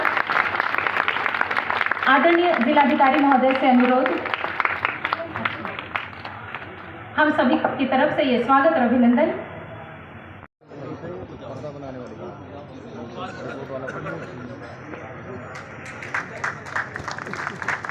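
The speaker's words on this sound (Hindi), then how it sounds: "तालियां नहीं रुकनी चाहिए, बहुत ही सुंदर क्षण है आज का।" A crowd applauds at a village welcome ceremony for a senior official, with sustained clapping running beneath an announcer speaking over a loudspeaker, fading as the talk continues alone.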